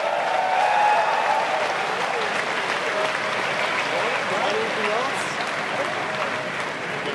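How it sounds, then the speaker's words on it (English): Large crowd at a Bitcoin reserve announcement bursting into loud, sustained applause and cheering that fills the whole stretch without letting up. "And the crowd just explodes."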